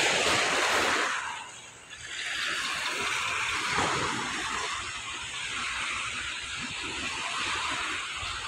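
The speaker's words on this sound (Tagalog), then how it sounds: "Smooth na smooth ang alon mga ka-fishing." Steady ocean surf washes in a broad, continuous hiss at Ilijan, Batangas, with a brief dip before the waves swell again, close and fairly loud with some wind.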